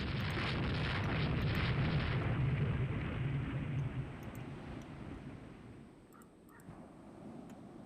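Warship guns fire in the naval strategy game Rule The Waves 2, a dense, rumbling barrage of booms and roars that fades gradually to a quieter background with faint distant thuds.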